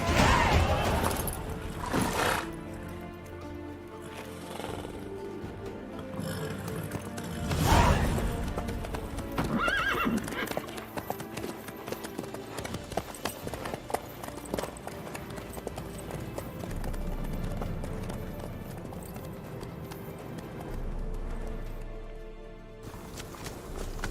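Horse hooves clop in a steady walking rhythm in The Witcher 3, with a brief whinny, set against game ambience and background music.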